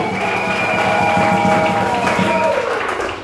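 An audience at a Sunday school children's event applauds, a continuous roar of clapping heard alongside a sustained musical tone and some voices, fading slightly at the end.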